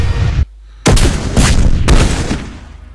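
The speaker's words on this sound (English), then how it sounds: "There's my fusion beams going in." Fusion beam weapons in Master of Orion pound a starbase, loud booming blasts that cut out briefly, then return as a heavy, rumbling barrage of overlapping hits before fading.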